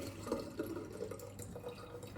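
Knife rinsed under a running kitchen tap while preparing traditional Italian-style pizza, a quiet steady trickle of water with faint splashes and drips, no voices.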